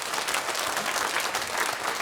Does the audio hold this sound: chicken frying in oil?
no